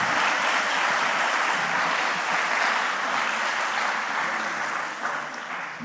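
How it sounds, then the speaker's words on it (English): Applause rises from the audience at the opening of an academic conference as Professor Andrzej Szeptycki takes the stage, a thick, even clapping that holds steady and tapers slightly near the end. "that's the moment for the round of applause"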